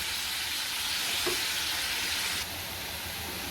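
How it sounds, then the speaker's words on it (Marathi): Chopped onion sizzling steadily in a pan as the base for a prawn masala, a continuous close hiss that drops slightly in level near the end, with no voices. "आता आपला कांदा शिजतोय"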